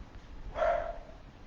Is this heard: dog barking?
yes